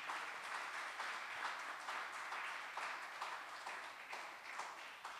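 A church congregation applauds the Lord, steady dense clapping from a crowd that carries on evenly for several seconds at a quiet level.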